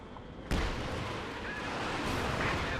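An artillery barrage in Company of Heroes 2, during a 2v2 match, hits with a sudden loud blast followed by a sustained, heavy rumble of explosions. It may sit under faint commentary.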